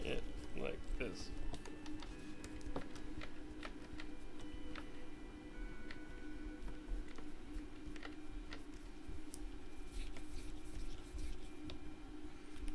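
Long screws being driven into a 3D-printed shell while assembling an Open MVS kit, giving faint, rapid clicking and ticking that continues steadily with a voice talking over it.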